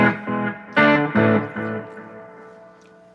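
Electric guitar chords ring out with reverb and delay, struck in a few separate strums that sustain and fade into a long echoing tail, alone with no talking.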